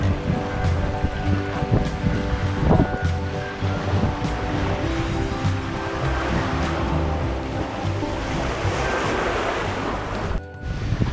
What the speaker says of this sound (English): Day 8 and the wind, she has arrived at last, but she's come with a bit of speed.